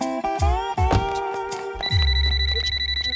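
A telephone rings in a comedy scene: a steady, loud electronic ring with a rapid pulsing pattern fills the last second or so, after a busier melodic passage with a brief dip in between.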